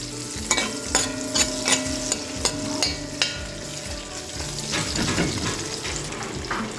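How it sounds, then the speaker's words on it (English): Anchor masala frying on low heat in a pan with onion pieces, a steady close sizzle broken by regular sharp stirring clicks and scrapes of a utensil against the pan. "A little bit of anchor masala. Just a little thing. Let that fry up on low heat."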